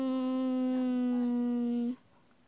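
A dog lets out a single sustained, tonal howl-whimper lasting about two seconds before cutting off abruptly, close and clear with faint background.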